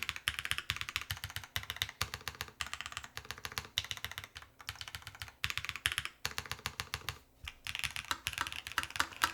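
Someone types on a custom-built Lotus80 mechanical keyboard whose plate has a force-break fitting, giving a rapid, close run of crisp key clacks in uneven bursts and short pauses, with no talking.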